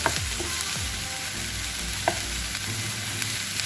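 Sliced onions fry in a pan as the base for chicken shorba: a loud, continuous close-up sizzle with a few sharp scrapes and stirs, and no voices.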